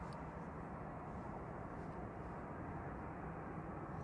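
Qatar Airways airliner taxiing out at Manchester Airport, a steady low jet-engine rumble that holds even and distant throughout with no voices.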